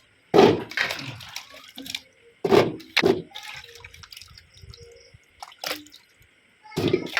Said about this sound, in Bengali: জল থেকে ছেঁকে তুলে নিলাম।